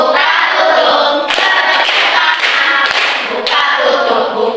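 Children clapping hands in a classroom clapping game, a dense continuous burst of many close hands clapping loudly in uneven rhythm with a few sharper accents.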